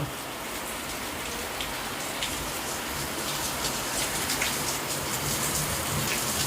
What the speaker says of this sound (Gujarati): આમ જો ધોધમાર વરસાદ ચાલુ થયો છે